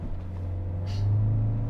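A Toyota C-HR 1.8 Hybrid accelerating in sport mode, a steady low engine drone that swells slightly toward the end, close and continuous with no talking.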